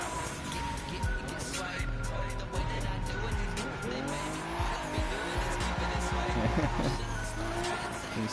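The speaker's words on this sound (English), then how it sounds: "RB26 redlining is such a turn on." A Nissan RB26 engine revs hard toward redline on a mountain road, a continuous loud roar with rising and falling pitch plus tire squeal, heard from inside the car with people talking over it.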